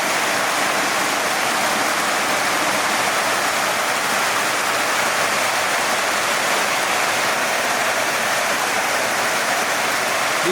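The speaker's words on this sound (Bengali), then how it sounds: "প্রচুর বৃষ্টি নামছে আজকে।" Heavy rain falls on a village kitchen, a loud, even, unbroken roar of water that stays constant throughout with no voices.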